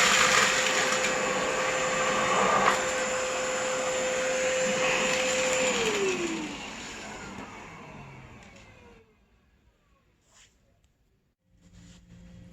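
A ReadiVac Storm wet/dry vacuum runs with a loud, steady whine and roar, then winds down as it switches off, leaving near silence before faint handling sounds.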